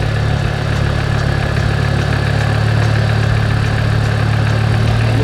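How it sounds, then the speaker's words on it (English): Exocet car engine idling at low revs on a standalone ECU, a steady close rumbling hum with a faint uneven knock, running alone without voices. "This is the lowest it's ever idled."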